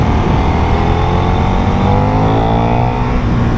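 A KTM 1390 R motorcycle engine hums loud and steady up close, a dense continuous drone with a slowly rising pitch and no voices over it.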